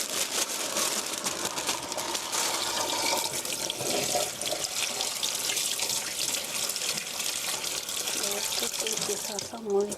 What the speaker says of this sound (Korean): 깨끗이 씻어서 흐르는 물에 씻어주세요.